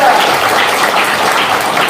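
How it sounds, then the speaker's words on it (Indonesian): Short burst of audience clapping, a dense and loud wash of hands in a room, carrying on evenly for about two seconds with voices mixed in. "Oke, tepuk tangan dong."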